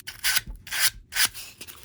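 A stiff bristle brush scrapes across a wooden window frame to raise grain texture, three rhythmic rasping strokes close up with short pauses between them.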